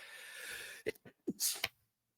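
A single close sneeze breaks out after a steady hiss stops, with a sharp explosive burst followed by a short breathy tail.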